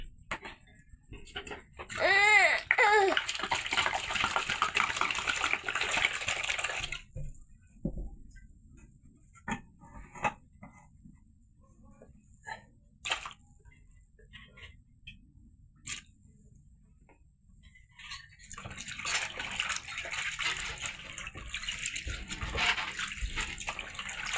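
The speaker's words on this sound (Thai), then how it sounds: "หลังจากเขาซอยแล้วเขาก็ล้างอีกรอบนึงพี่น้อง" Tap water running and splashing while thinly sliced food is rinsed a second time, a broad steady wash loudest early and returning toward the end, with clinks and quiet gaps between.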